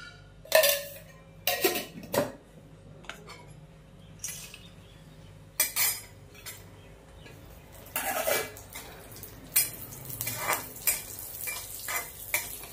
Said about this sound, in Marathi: आपण आता हे काजू आणि बदाम तुपामध्ये फ्राय करून घेऊया।